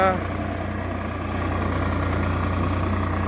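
A tractor engine runs steadily close by, a constant low idling drone with a faint harmonic whine, continuous through the whole stretch with no voices.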